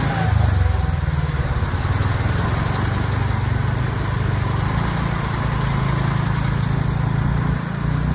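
A TVS Ntorq scooter carrying three riders moves through monsoon traffic, its engine giving a constant close, low drone with steady road and wind noise the whole way through.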